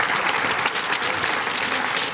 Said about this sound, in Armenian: Եկեք ծափարենք եւս մեկ անգամ Զաքարյան շատ հայկական։